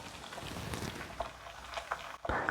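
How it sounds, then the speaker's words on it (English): Thick bubbling and popping of oatmeal boiling, uneven plops and gurgles close by, with a louder burst near the end. "So this would be boiling oatmeal."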